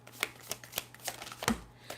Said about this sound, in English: Let's go ahead and shuffle the cards here and see what this is.